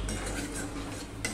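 Ground coriander, cumin and turmeric are stir-fried in a pan for palak paneer, with a spoon knocking and scraping against metal over a soft background hum.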